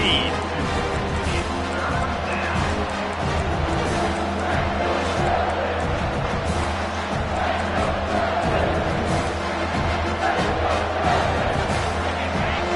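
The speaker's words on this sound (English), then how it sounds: "This crowd knows they have to bring it in big moments" A packed stadium crowd in the NCAA 25 college football video game roars in a steady, dense wall of cheering, with broadcast commentary running underneath.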